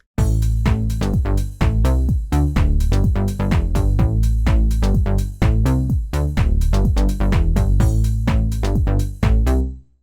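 A classic Moog-style bass synth preset for house music plays a loud, punchy bassline of short, rhythmic plucked notes with deep low end and bright attacks, alone.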